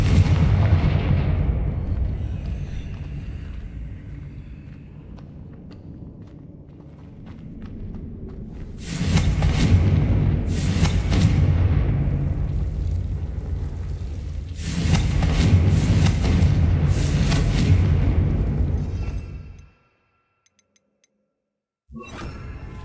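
In the video game Hogwarts Legacy, the Confringo fire spell sets off loud, rumbling blasts and explosions in repeated heavy bursts over a sustained low roar, then goes briefly silent.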